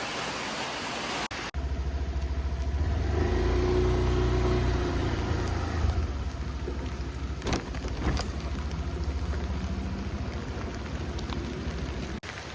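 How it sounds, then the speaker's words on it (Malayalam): Heavy rain pours during a flood in the Illikkal area of Kottayam, a dense, steady roaring hiss with a low rumble and the occasional swish of passing traffic. "നല്ല മഴയാണ് നല്ല മഴയുണ്ട്"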